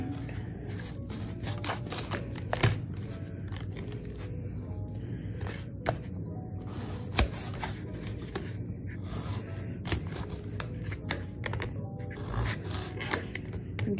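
Knife cutting food on a plate, faint scraping strokes and sharp ceramic taps at irregular intervals, close and quiet, with no talking.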